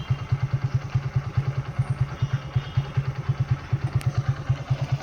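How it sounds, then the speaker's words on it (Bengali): A motorcycle engine out on a village road in Assam, running with a steady, even thumping pulse at close range, loud and alone without any voices. "আজকে আবার বাইক নিয়ে বের হলাম"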